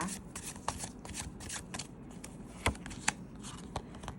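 Tarot cards being shuffled by hand, a soft papery riffle with scattered sharper snaps and slaps, close and fairly quiet, with no talk over it.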